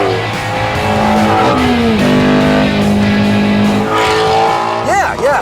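A Ford sports car's engine revs hard, holding a steady drone that climbs and falls in pitch, loud and close with some tire noise near the end.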